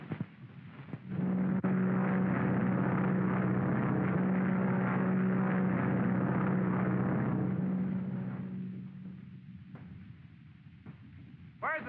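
A propeller plane engine drones loudly and steadily, its sound rising at start and fading gradually away after about eight seconds.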